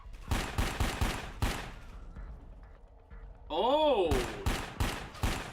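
Rapid gunfire in a video game is aimed at grenades in midair, with dense bursts of sharp shots, a short lull, then a warbling electronic effect, and more shooting over it. A player briefly exclaims.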